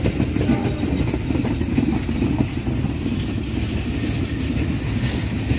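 A local passenger train rumbles past nearby at Pasir Jengkol station in Indonesia, a steady low roar with faint clattering of wheels on track.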